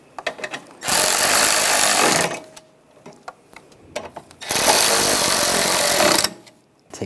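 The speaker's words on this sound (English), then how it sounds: "take the bolts, get those started, and tighten those down" Two sustained bursts of a power ratchet or impact driver tightening the valve cover bolts on a 2001-2006 BMW 325Xi, each lasting over a second, loud and close, separated by small clicks and handling noises.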